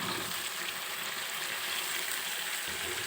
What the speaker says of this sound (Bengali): এবার আমি চাল কুমড়োগুলো ঢেলে দিব।